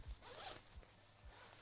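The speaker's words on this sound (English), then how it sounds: "let's do the double zipper." The double zipper of a film changing bag is pulled shut in a few quick, close zips, one right after another.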